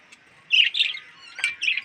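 Pet birds in a cage give a few close, bright chirps and short tweets in scattered bursts against a quiet background, with no talking.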